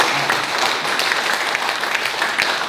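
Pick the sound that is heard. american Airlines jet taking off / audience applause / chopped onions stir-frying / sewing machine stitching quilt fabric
audience applause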